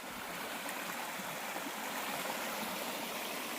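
A stream flows across a hiking trail crossing in the mountains, making a steady, soft rushing and trickling wash that stays even throughout, with no voices.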